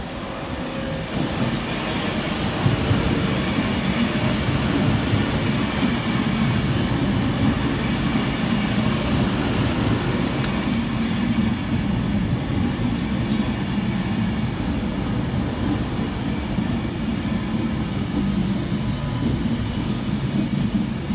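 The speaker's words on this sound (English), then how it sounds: "we see the arrival of 390016, working the 1604 Avanti West Coast service from Manchester Piccadilly through to London Euston" Avanti West Coast Class 390 unit 390016 pulling into Stockport station in the rain on its Manchester Piccadilly to London Euston run, a steady continuous rumble and roar of the train passing close, loud throughout with no talk.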